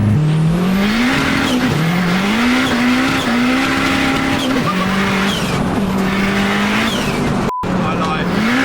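K24 turbo-swapped Honda Civic EG making about 640 horsepower pulls hard through the gears, loud close engine with rising revs, sharp drops at each shift and a turbo whine on top, heard from inside the car.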